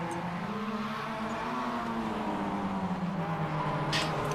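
A race car engine in the iRacing sim drops off throttle, its steady drone sliding downward in pitch as the revs fall away for a turn 9 hairpin, loud and continuous.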